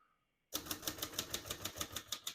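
Typing on a 1948 Royal Arrow vintage portable typewriter, a quick steady run of about a dozen crisp key strikes in even rhythm after a half-second pause, close and clear with no talking.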